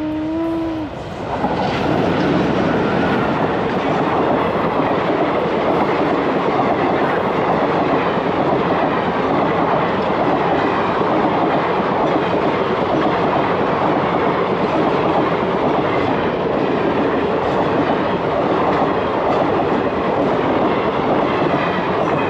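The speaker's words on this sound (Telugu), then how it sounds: "ట్రైన్ వస్తుంది." A train rushes past close by in a loud, steady roar that swells within the first two seconds and holds for about twenty seconds, with rattling wagon noise and no talk.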